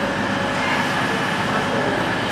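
A train at a station platform on a journey from London to Liverpool gives off a steady, loud rumble with a constant mechanical hum that fills the whole stretch without a break.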